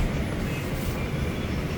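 A New York subway train rumbles steadily at a station on the morning after a severe snowstorm while passengers board, giving a continuous loud, low mechanical roar with no voices.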